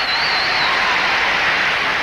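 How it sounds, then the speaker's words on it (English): An audience at the 1985 World Gymnastics Championships cheers and applauds in a steady, dense wash of clapping and crowd roar that carries on without a break. "the audience really going wild about that"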